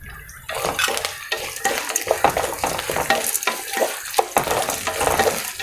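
Curry leaves and green and dried chillies spitting and crackling in hot oil for South Indian coconut rice, a loud, dense sizzle with sharp pops and stirring scrapes throughout.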